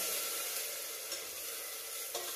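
Beaten mixture poured into a hot pan, giving a soft, steady sizzle with a few faint clicks, fairly quiet and without speech.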